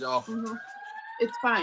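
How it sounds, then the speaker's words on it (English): An emergency vehicle siren wails on a Los Angeles street, a long rising and sustained tone sweeping past under brief casual talk from people nearby. "Oh, sorry for the siren."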